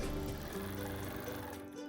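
A sewing machine quilts along a narrow channel in a quilt, its steady motor whir and needle hum running continuously and fairly close, dipping slightly near the end.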